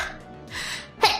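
A single sneeze played back from a video clip: a breathy intake followed by one sharp, loud burst near the end, with no talk.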